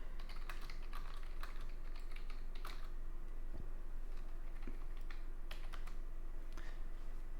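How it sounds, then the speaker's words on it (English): Soft, fairly quiet keystrokes on a computer keyboard arrive in irregular bursts of taps over a low steady background hum, with no speech. "one of the things that I got for Christmas is a new keyboard that is a hell of a lot quieter, so hopefully my clacking searching doesn't"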